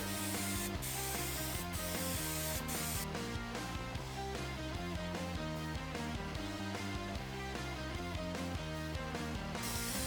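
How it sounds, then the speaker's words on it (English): Continuous hissing spray from a paint gun as paint goes onto a classic Mustang, a close, steady airy rush with brief pauses and small clicks from the trigger between passes. "Now we're gonna grab our paint, and again, just like the primer, nice and even spray."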